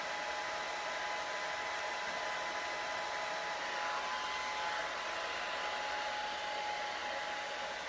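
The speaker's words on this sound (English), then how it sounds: "it's actually drying my hair that takes the longest, because of the fact that the air coming out is not as hot" A hair dryer blows steadily while curly hair is dried, a constant close-up whooshing hiss that holds the same level throughout with no voices.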